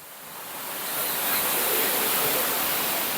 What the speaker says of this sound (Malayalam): വെള്ളച്ചാട്ടത്തിന്റെ അടുത്തേക്ക് പോകാം.